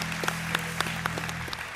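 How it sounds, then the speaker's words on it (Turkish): A television studio audience gives a short burst of applause, a dense, even patter of many hands that holds steady for under two seconds under a faint background hum. "Buna bir alkış"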